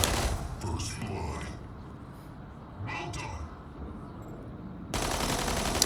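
An assault weapon in the mech combat game Mech Arena fires bursts of rapid game gunfire with mechanical clanks, alternating with quieter stretches while a person talks over the action.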